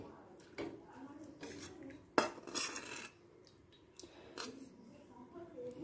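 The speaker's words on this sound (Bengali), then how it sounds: "এবার অন্য পাত্রে তুলে নেব।" Star fruit chutney is scooped from one pot into another bowl, giving a few soft scrapes and clinks of utensil on the dishes, with one sharper knock midway and faint background voice.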